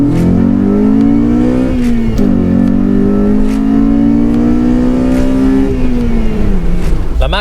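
A modified Honda Civic driving and accelerating, its engine loud and close, revving up through rising pitch sweeps with short dips at gear changes and a few sharp clicks over the steady drone.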